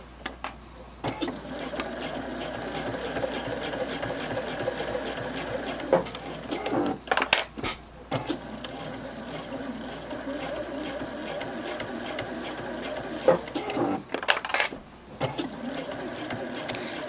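A sewing machine stitches a clamshell dumpling pouch in a steady, close mechanical whir, stopping briefly a few times for short pauses and back tacks before running on again.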